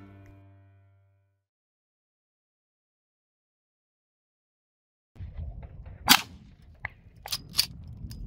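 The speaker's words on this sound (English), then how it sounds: "now that you know the story and history behind this 1873 Winchester, let's take it out and put some rounds through her" A Winchester 1873 rifle chambered in .44-40, made in 1883, fires outdoors after a stretch of silence: a few sharp, fairly distant cracks over low background noise, one stronger report followed by two quicker ones.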